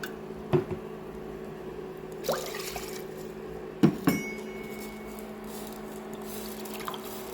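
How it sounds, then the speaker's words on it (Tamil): Soaking water and rice are poured into a pressure cooker for black kavuni rice porridge, giving a few faint splashes and drips spaced out over several seconds against a low steady kitchen hum. "குக்கரில் நம்ம அரிசி ஊற வச்ச தண்ணியோடு சேர்த்து ஒரு அஞ்சு டம்ளர் தண்ணி ஆட் பண்ணிக்கோங்க"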